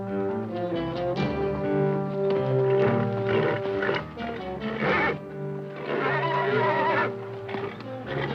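A horse whinnies loudly and repeatedly over a hunting scene with a spooked horse, shrill neighs rising and falling, joined by hoof sounds and snorting.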